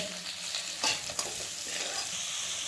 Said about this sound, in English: Then we'll again put salt and mix it well.